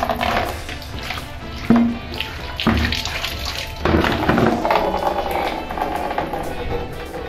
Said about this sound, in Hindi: पानी भर लिया जाए ज़रा